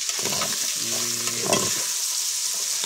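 Food stir-frying in oil in a pan after more oil is added, with a steady broadband sizzle and a few scraping stirs, close and continuous with no talk.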